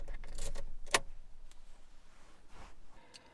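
Keys for a Ford Transit jangle in a few quick metallic bursts, close and clear, with one sharp clink in the middle and a quiet room behind.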